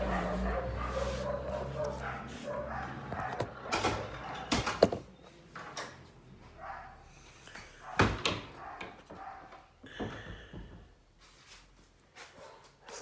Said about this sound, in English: All the dogs and the garbage truck going by.